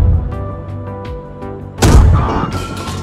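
A T-34 tank in the PC game Gunner HEAT idles with a low engine drone, then its cannon fires once in a loud, heavy boom that rumbles and echoes away.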